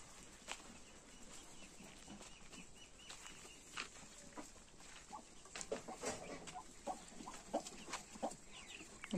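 Chickens cluck at close range on a small Russian farm homestead, a hen with chicks nearby; soft irregular clucks and short calls recur over steady outdoor background noise, with no talk.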